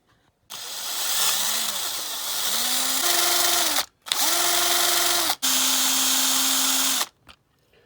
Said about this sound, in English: Right, I'll try and get a drill on those now.